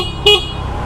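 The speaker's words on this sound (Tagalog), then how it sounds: "Malakas ang busina nya guys." A Motorstar Easy Ride 150N motor scooter sounds its horn in one short, loud, clear beep of about a tenth of a second against a low idle hum.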